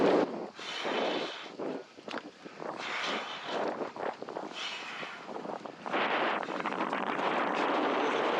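Steady wind buffeting a microphone out at sea while wingfoiling on a 4.5 to 5 m² Slick SLS wing and Veloce 1500 foil board, a loud broadband rush that swells and gusts throughout with no talking.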